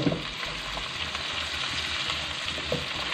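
Chicken and carrots frying lightly in a pan for chicken Manchurian, a steady close sizzle with soft stirring scrapes and no talking.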